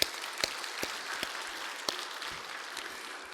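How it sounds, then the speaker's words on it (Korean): A church congregation at a Sunday morning service gives scattered applause of thanks: a few sharp, separate claps stand out over a faint, thin patter in a quiet room. "감사의 박수 한번 드리십시오."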